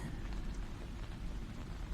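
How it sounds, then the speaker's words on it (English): Steady, dense rain drums on a tin roof on a rainy night, a continuous even wash of patter at moderate loudness with no voices. "Beyond the rhythmic drumming of the rain on the tin roof, can you hear it?"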